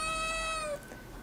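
A single drawn-out cat meow, clear and close, fading abruptly after under a second with no speech.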